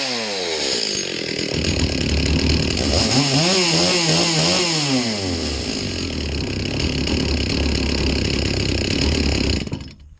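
A rebuilt Stihl MS 360 chainsaw runs loud and close, its two-stroke engine snarling steadily with rising and falling revs mid-run before cutting off abruptly at the end.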